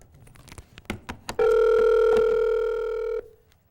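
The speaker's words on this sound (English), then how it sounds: "if I can dial the right number" A telephone is dialed with a rapid series of sharp clicks and tones, followed by a loud, steady ringing tone that holds for nearly two seconds and then cuts off.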